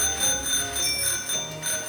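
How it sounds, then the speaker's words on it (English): Bicycle bell rung rapidly over and over in Pokémon Sword and Shield, a continuous stream of bright, overlapping dings, loud and close with no talk. "Galarian Moltres can be very annoying to chase down, so I decide to be annoying too by spamming my bike bell."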